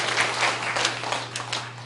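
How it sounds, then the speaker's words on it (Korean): A church congregation at an ordination thanksgiving service applauds an elder, a brief burst of dense, fairly close clapping over a low steady hum, with no talk. "조대영 장로님 박수 한번 보내주세요."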